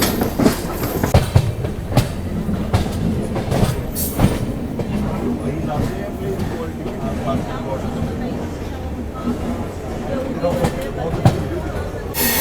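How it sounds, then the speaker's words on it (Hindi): Continuous rumble of an express and a local train running on parallel rails, with clickety-clack wheel beats and occasional clanks, while voices talk underneath the steady rolling noise. "पश्चिम एक्सप्रेस जा रही है, उसके साथ पैरेलल देखो लोकल ट्रेन जा रही है"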